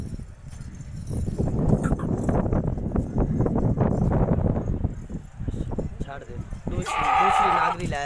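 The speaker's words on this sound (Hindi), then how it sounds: "ये बकरी देखे नागरी है" A Nagri goat in a crowded livestock sale setting, with bleating and hoof clatter among dense animal noise and people talking loudly close by, ending in a strained, high cry.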